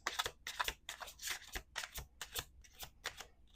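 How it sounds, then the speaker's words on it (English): A deck of oracle cards being shuffled by hand, a rapid series of crisp riffling bursts repeating in quick rhythm, close and fairly quiet, with no talking. "We're going to do two more shuffles."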